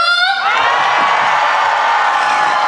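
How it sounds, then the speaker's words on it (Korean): Loud crowd cheering and shouting with clapping at an outdoor festival concert featuring a singer, a dense roar that bursts in right after a voice and holds at full strength. "다시 한 번 더 박수와 함성"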